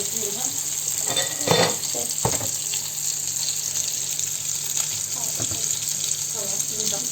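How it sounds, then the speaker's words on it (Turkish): Rice for pilaf sizzles steadily as it sautés in a pan, with a constant bright frying hiss and a few clinks and stirring knocks of a utensil close by, and no clear speech. "Biraz daha kavurduktan sonra suyumuzu ilave edebiliriz."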